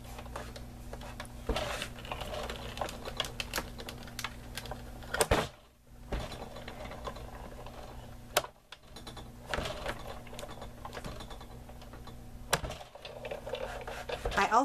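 A hand-cranked Sizzix die-cutting machine rolls a precision base plate and top cutting plate back and forth, making a steady mechanical rumble and grind with brief pauses between passes.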